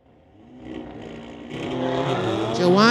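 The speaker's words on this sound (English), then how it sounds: "Looks like a drag race here." Street legal drag race cars launch and accelerate at a MOPAC drag strip, engine roar building steadily louder with a rising high pitched whine near the end, while an announcer talks over the noise.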